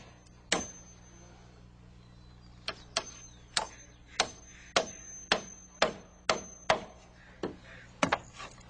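Hammer blows driving nails into a wooden rafter block and top plate during roof framing, about a dozen sharp, evenly spaced strikes in quick succession, fairly close and distinct over a low steady background hum.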